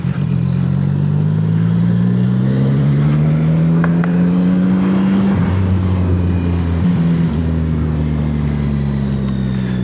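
A CFMoto 675SS sportbike being ridden: a loud, close engine holding a steady drone, easing up and down in pitch, with wind rush throughout and no speech.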